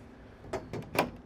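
Doors on a Pearl 63 yacht slide open near the aft galley and cockpit, making three quick rolling clunks within about half a second over a low background hum.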